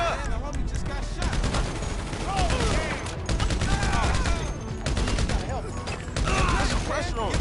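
Heavy, continuous gunfire from a PS4 game runs throughout as loud rapid bursts. Voices and other tonal game sounds are layered over it.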